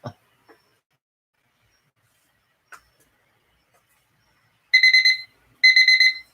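An auction timer beeper goes off in two short bursts of rapid electronic beeping near the end, loud and close, after a few faint knocks and near silence.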